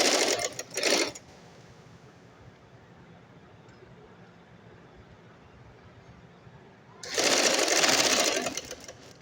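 Domestic sewing machine stitching cord piping onto fabric for a child's shirt and trouser set, a loud rapid whirring run at the start, a long quiet pause with faint room noise, then a second longer burst near the end.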